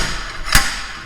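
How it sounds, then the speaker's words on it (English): A slide hammer strikes once while pulling the rear hub off an Austin-Healey 3000 axle, giving a single sharp metallic clank over a steady background hiss. "If you've never used a slide hammer before, they're really cool."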